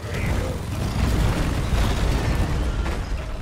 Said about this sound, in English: Supply pod inbound.